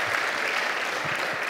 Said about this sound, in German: Applaus für Khalid Bounoua!